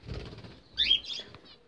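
Small birds burst out of a nest box in a quick flurry of flapping wings, a brief fluttering rush near the microphone with a few faint chirps around it.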